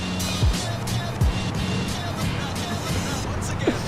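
An electric-quiet car is shifted into drive and pulls away, its low rolling whoosh and tire noise passing nearby under a steady bed of outdoor background sound, with people talking over it.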